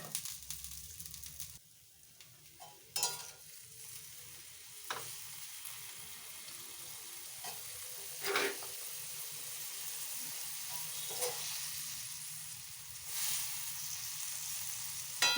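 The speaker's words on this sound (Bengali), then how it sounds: "এবার একটু ফুলকপির ঝাল করে নেব।" Steady sizzling of spicy Bengali cauliflower curry (phulkopir jhal) frying in a pan, with a spatula scraping and stirring at intervals, producing sharp scrapes over a constant hiss.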